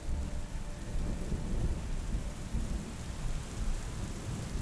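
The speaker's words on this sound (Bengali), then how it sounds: "বাইরের ঝমঝমে বৃষ্টির আওয়াজে খুব সহজেই ঘুম এসে গেল তার" Heavy rain roars steadily with deep rumbling thunder rolling underneath, loud and continuous with no voices.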